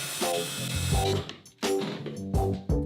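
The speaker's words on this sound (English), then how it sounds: "So I'm just pre-drilling myself some holes because we're having to drill at awkward angles." A power drill pre-drills holes at awkward angles into the frame of a coffin build in several short, stop-start bursts of whirring, close and moderately loud with no talk.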